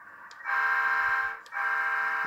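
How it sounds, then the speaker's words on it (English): Two loud, steady locomotive air horn blasts from a model railroad sound close by, the first about a second long, the second starting after a brief gap. "Got the air horn."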